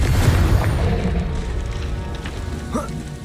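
In the Hogwarts Legacy video game, a Confringo fire spell blast lands with a deep booming whoosh that rumbles for a few seconds.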